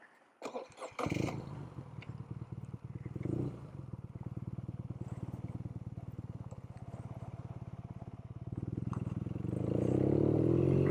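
A motorcycle on a mountain ride over deep gravel, its engine chugging steadily at low revs close by, with crunching and clatter at the start and the engine note rising toward the end.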